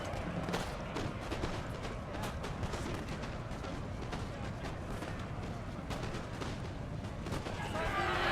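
Musket volleys crackle through a Napoleon Total War battle, with dense, continuous popping gunfire at a moderate distance and a low rumble of battle noise underneath, steady for several seconds.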